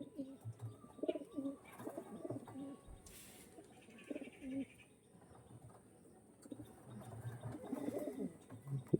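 Pigeons of an old bloodline, kept for sale, coo softly in repeated low bursts, with crickets trilling in the background and occasional faint voices.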